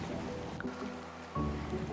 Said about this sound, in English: the sound of waves lapping on the shore